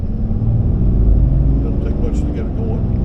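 A 2026 Ram 6.7L Cummins Mega Cab work truck with an 8-speed automatic accelerating hard, a loud low engine rumble from inside the cab that holds steady for a few seconds under people talking.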